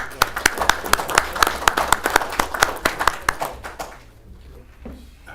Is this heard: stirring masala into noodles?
no